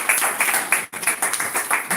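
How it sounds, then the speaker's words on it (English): Applause from a small audience at a campaign kickoff fundraiser in a wine bar, scattered claps with a brief break in the middle, steady and fairly close. "You can give a round of applause."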